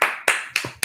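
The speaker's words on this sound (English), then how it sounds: "Everybody give them a round of applause." Four sharp, separate claps spaced evenly, close and distinct, marking an opening call for applause at the start of a show.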